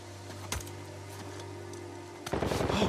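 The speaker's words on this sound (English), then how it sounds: "Oh, shit! Shooting." Gunfire in the game Uncharted 4, a single crack early over a low hum, then a dense rattling burst of automatic fire closing out the moment.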